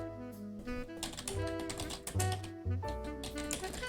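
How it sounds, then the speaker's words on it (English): Rapid clacking on an old mechanical computer keyboard during a spreadsheet game session, uneven bursts of keystrokes close and fairly loud with brief pauses, mixed with tonal background music. "don't know if you can hear my keyboard while I type. It might be very loud."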